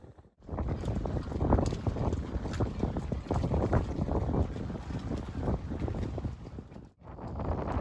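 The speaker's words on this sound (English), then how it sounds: "There were, however, gusts of around 20 knots of wind" Strong wind at a marina buffets the microphone in heavy, rumbling gusts of around 20 knots, with a brief lull near the end before the blustering picks up again.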